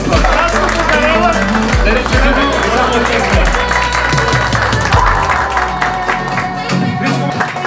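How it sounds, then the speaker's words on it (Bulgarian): A crowd claps and cheers at a barbershop grand opening, a dense burst of applause heard alongside talking voices. "От всички нас силни бурни аплодисменти за майстора на занаята Щери Стайл."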